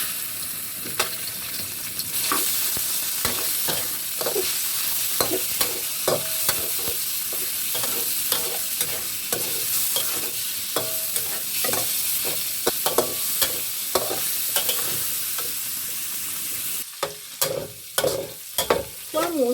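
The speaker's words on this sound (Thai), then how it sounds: "ใส่น้ำมันก่อนเลยนะคะทุกคน หมูสามชั้นค่ะ" Pork belly frying in oil in a wok, a loud steady sizzle throughout with frequent scraping and clacking of a spatula stirring, close up, with no talking.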